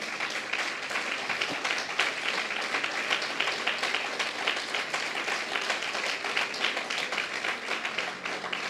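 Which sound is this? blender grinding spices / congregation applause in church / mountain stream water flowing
congregation applause in church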